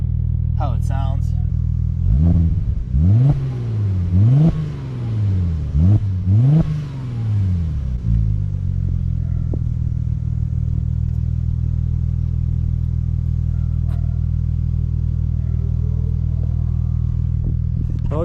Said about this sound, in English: I'll go ahead and rev it for you guys so you guys can kind of get a feel for how it sounds